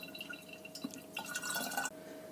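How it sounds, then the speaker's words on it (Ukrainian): Chicken broth infused with garlic trickles through a sieve into a jar, a soft continuous pouring and dripping that swells in the middle and then stops abruptly. "І ми його тепер проціжуємо в банку через сито."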